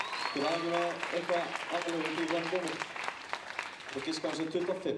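An audience claps in a steady burst of applause for a mother's birthday at a youth singing contest, heard under someone talking into a microphone over it.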